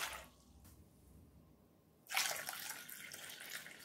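Water is poured into a vessel holding wood apple pulp, a sudden loud splashing gush that begins partway through after quiet and continues steadily to the end.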